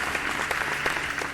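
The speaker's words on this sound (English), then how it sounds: "A huge round of applause for them." Audience at a Sakshi Spell Bee in Telangana applauds the spelling bee participants; a short, steady wash of clapping from a crowd, moderately loud and continuous with no voices over it.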